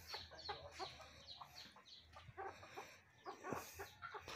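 Chickens and newly hatched chicks on a provincial farm, with faint clucking and scattered high chirps coming in irregular bursts, fairly distant and quiet.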